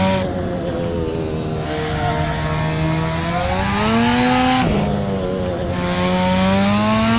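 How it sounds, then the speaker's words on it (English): A car engine screams at high revs, its pitch holding and wavering as it bounces off the rev limiter, loud and continuous with no talking. "you can just hear it bounces off rev limiter and it sounds so good"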